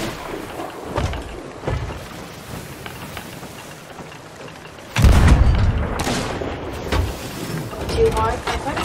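Cannon fire in the castle strategy game Stronghold: a heavy boom hits midway and rolls out into a rumbling tail, with smaller thumps and game ambience before it and players talking over the action.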